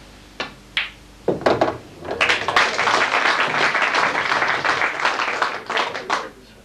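Spectators at the 1989 Border Classic snooker final applaud a shot, a few scattered claps at first, then swelling into sustained applause before tapering off.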